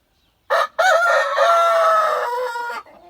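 A Barbezieux rooster crows loudly and close, one long drawn-out call preceded by a short clucking note, with no other sound around it.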